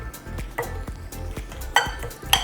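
A spoon mixes salt and black pepper into a bowl of homemade guacamole, scraping and clinking against the bowl in a steady rhythm of soft strokes with a few sharper knocks, close and without talk.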